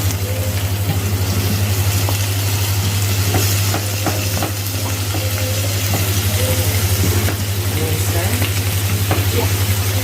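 Salted mackerel for run dun is stirred in a frying pot, a continuous loud sizzle with scraping stir strokes over a steady low hum, no voices.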